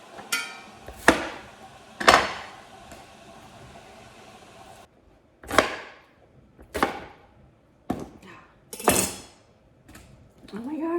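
A knife chops onions on a cutting board in a home kitchen, giving sharp, spaced strikes that come singly or in short runs with quiet pauses between them, close and clear.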